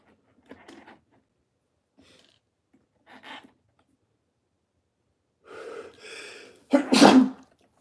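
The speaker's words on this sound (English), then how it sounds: "A violent sneeze, if you couldn't tell." A violent human sneeze bursts out loud and close near the end, preceded by a few sharp breaths and gasping inhales building up to it, with quiet pauses in between.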